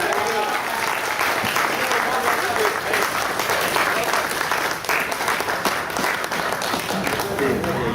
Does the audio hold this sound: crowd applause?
yes